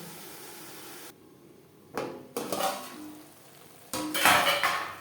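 A metal lid clatters onto a pan of pumpkin leaves cooking on the stove, with a couple of clanks and scrapes and a final louder rattle over a soft background hiss.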